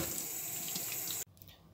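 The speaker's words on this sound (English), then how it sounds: "give them all a little rinse to get the bubbles off" Painted-craft pebbles are rinsed under a running tap with a loud, steady rush of water that cuts off abruptly, leaving quiet dripping and handling noise.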